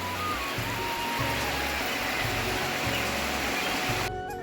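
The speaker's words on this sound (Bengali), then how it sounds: "আর এদিকে মুসুলধারে বৃষ্টি নামলো" Torrential rain pours outside a house, a dense, even wash of hissing noise heard close, running steadily and then cutting off abruptly at the end.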